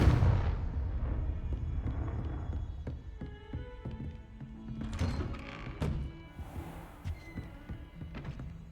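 In Hogwarts Legacy, Confringo spells blast in a series of hollow, booming thuds spread across several seconds. The impacts sound moderately loud over a murky game background.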